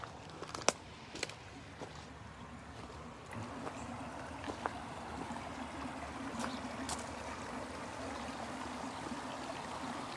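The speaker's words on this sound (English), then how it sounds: "So this is more water coming in from the mountain." Steady rushing and trickling of a mountain stream flowing close by, continuous with a few sharp clicks and splashes, no voices.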